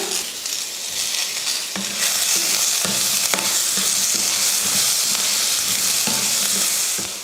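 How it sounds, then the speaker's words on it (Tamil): Onion and lentils sauté in a hot pan with a loud, continuous sizzle, while a spoon scrapes and stirs in repeated strokes close by. "வெங்காயம் வதங்குறப்போ அந்த பருப்பையும் சேர்த்து வதக்குறப்போ பாருங்கள் நல்லா பருப்பு பொன்னிறமாக ஆயிடுச்சு பாருங்கள்"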